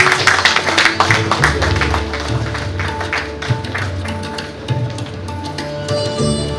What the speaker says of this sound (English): We may give a round of applause to Behroz ma'am.